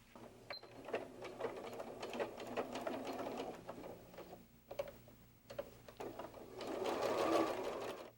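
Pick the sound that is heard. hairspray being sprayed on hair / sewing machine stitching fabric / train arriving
sewing machine stitching fabric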